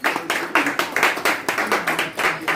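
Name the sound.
audience applause for Pierre Ndiaye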